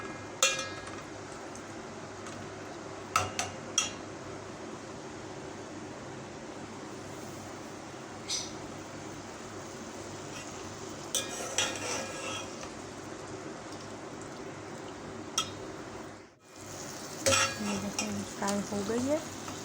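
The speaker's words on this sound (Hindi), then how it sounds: "चिकन ऐड कर दी, इसको मिक्स करेंगे जब तक ये अच्छे से इसको फ्राई कर लेंगे हम।" Chicken pieces stirred and frying in a pan for a cheesy pizza sandwich, a steady close sizzle with occasional scrapes and clinks of a utensil against the pan, no talking.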